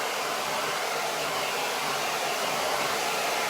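A hair dryer blows steadily and loudly with a continuous broadband roar, drying freshly applied Dixie Belle chalk mineral paint on a layered boho furniture piece.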